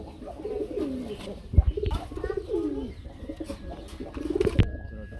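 Pigeons cooing at a busy pigeon market where black Bombai pigeons are sold, with repeated throaty rolling coos close by and a voice talking underneath.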